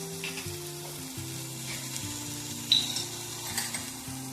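Sweet corn masala sautéing in a pan gives a soft, continuous sizzle with occasional stirring clicks, fairly quiet, over a steady low hum of musical tones in the background.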